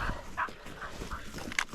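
A dog at a bass lake gives short, close yips and whimpers in quick irregular bursts, with some nearby background noise and no speech.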